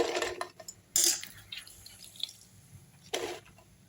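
Water drips and splashes from washed dried red chillies as they are squeezed by hand over a plate. The sounds come as a few scattered, close, quiet spatters with soft trickles between them.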